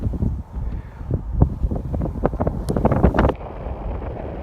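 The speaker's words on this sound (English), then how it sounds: "Sorry if the wind's a little strong" Strong, gusty wind buffets the microphone outdoors on a cold day beside a truck route, roaring loudly in uneven surges with no voices.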